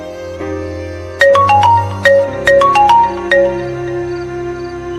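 A mobile phone ringtone plays a bright melodic pattern of repeated tones over a low hum, loud and close, with short pauses between phrases, as a call is placed.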